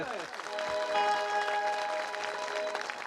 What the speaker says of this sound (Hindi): अरे तालियां थोड़ी जोरदार होनी चाहिए ना।